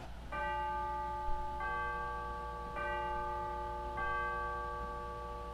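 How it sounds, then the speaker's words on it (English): Four bright pipe organ chime strikes ring out at a slow, even pace, each tone sustaining and overlapping the next over a low steady hum. "so there are the chimes, which you may have heard."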